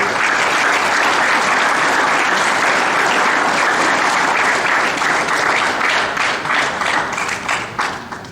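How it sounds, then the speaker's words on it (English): Sustained applause from a large audience at a school graduation gala, dense and steady throughout before thinning out near the end. "I'd like to give her a big round of applause too"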